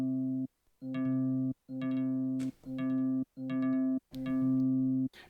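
A Waldorf Iridium synthesizer with a resonator-style delay plays a sustained harmonic tone broken into six loud repeats, with the gaps between them shrinking as they go and bright attacks at each onset, alone with no talk.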